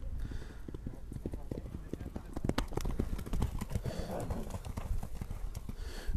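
Racehorse hooves clip-clop steadily on the ground in a Kyrgyz village setting, a quick, close rhythm of hoof beats, with people talking over it and a brief horse whinny.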